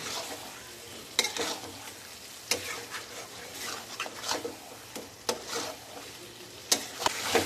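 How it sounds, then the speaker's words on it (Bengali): Chicken pieces being mixed with spices in a hot pan over a lowered flame, with a steady sizzle and frying hiss broken by repeated sharp scrapes and knocks as the meat is stirred, up close and with no talking. "মশলার সাথে মাংসগুলো আমি খুব ভালো করে মিশিয়ে নিচ্ছি"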